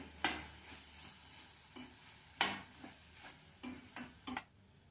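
Faint pan sizzle under a series of distinct scraping clinks as a spoon stirs and mixes spices into vegetables, about eight strokes at irregular intervals.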